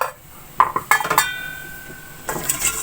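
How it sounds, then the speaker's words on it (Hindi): The metal lid of a cooking pot of potatoes is lifted, producing a few close clanks and clinks with a brief ringing tone, then a softer scrape. "अब हम ढक्कन खोल कर देख लेते हैं।"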